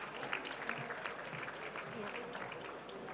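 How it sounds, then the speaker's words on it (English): A conference audience gives steady, even applause for a healthcare executive, moderately distant and continuous throughout. "Give Safia a big round of applause"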